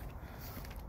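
Small hinged door on a 2004 Fleetwood Yuma pop-up camper creaking, a brief continuous scraping squeak that is fairly quiet and close, with no talking.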